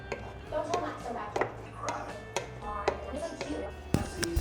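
Vegetables and pork are mixed in a pan with a utensil, making irregular clinks, taps and scrapes, fairly quiet and close.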